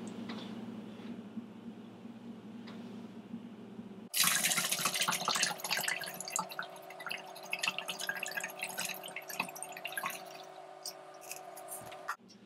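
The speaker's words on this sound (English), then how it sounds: "What if I put 1 more liter of water in there?" About a liter of water being poured into a bottle: a quiet faint trickle at first, then a sudden bright rush of splashing liquid that runs on steadily before stopping.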